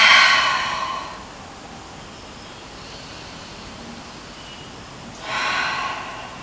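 Two audible exhalations out through the mouth during yoga, the first fading over about a second and the second starting after a quiet pause, both breathy and close with no speech.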